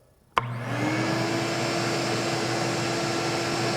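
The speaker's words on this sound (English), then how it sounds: "So I'm going to just kick this vacuum on, we'll see what it does." A shop vacuum switches on with a sharp click and settles into a steady, loud whirring roar with a constant motor hum.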